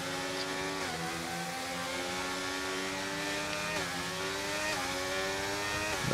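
Formula 1 race car engines scream in the F1 23 video game at the Las Vegas round, revving high and steady with repeated upshifts. The whining pitch climbs, drops and climbs again under a continuous roar.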